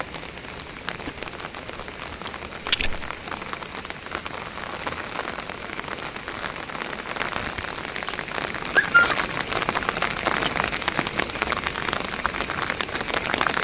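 Heavy rain pours steadily onto surfaces during a fishing outing, a dense continuous patter with a couple of louder splashes and no voices.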